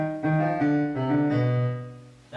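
Piano playing a slow section of a piece, a string of sustained notes struck one after another at an unhurried pace, close and clear with no talking.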